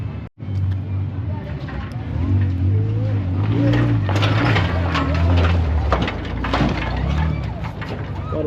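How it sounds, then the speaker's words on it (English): Jeeps rolling past at an off-road event, with loud, steady engine rumble and shifting low drone from several vehicles close by, plus scattered clanks and mechanical rattles, with no talking. "get a couple of these Jeeps coming down through here"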